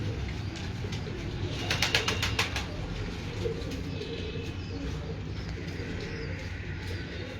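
Pigeons cooing in a loft, soft low throaty coos repeating under a steady background hum, with a brief burst of higher chirps partway through and no talk.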